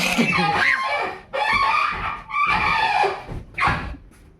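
Loud, close rooster crowing in several raspy bursts, harsh and strained with short pauses between calls.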